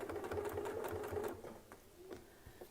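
A Westalee longarm sewing machine stitches steadily with a fast, even mechanical whir and needle rhythm, close and clear, then slows and trails off into scattered light clicks.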